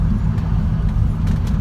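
An old London taxi with automatic transmission driving along, a steady low engine and road rumble that holds close and even throughout, with faint brief ticks above it and nobody speaking.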